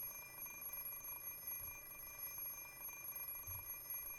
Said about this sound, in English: The alarm clock is deaf to my complaints.